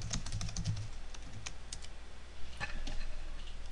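Computer keyboard keys being typed in a steady run of close clicks and taps, entering a message on a board, with no voices.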